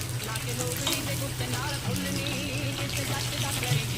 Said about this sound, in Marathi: कलेजी पोटा फ्राय.